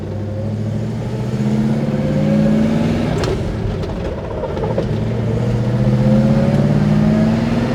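A 1966 Oldsmobile 4-4-2 rumbles steadily as it drives, its engine note rising and falling smoothly through gears, loud and close with no voices over it.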